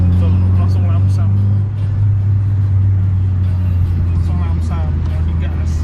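A 1990s Toyota Corona Absolute fitted with a replacement full fuel pump, its engine running: a steady, close, humming drone with little change in pitch, under someone talking nearby.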